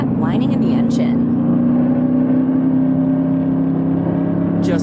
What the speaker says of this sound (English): You want to hear that whining in the engine?